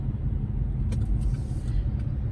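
A car drives along a road, a steady close low rumble with a few faint jangles and clicks inside the cabin, and nobody speaks.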